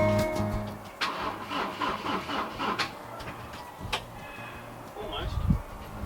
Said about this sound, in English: let's go see if the engine will start